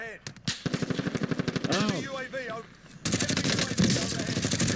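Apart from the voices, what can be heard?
gunfire in Call of Duty: Warzone video game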